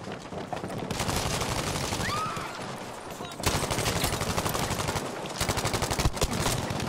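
Gunfire in Battlefield V played on PS4: dense bursts of automatic weapons fire and rapid shots, continuous and fairly loud, intensifying in the second half with a rattling machine-gun rhythm.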